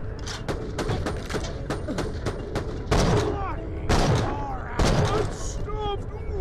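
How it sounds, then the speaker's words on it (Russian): Rapid bursts of gunfire from the video game Borderlands: The Pre-Sequel repeat in quick volleys, with booming impacts and electronic effects, loud and close throughout. "Пушка бам."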